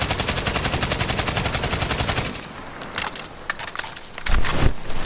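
Sustained automatic fire from an RPK machine gun in Modern Warfare, shot without recoil compensation: a rapid, loud, evenly spaced burst for about two seconds, then quieter clatter and a few scattered shots.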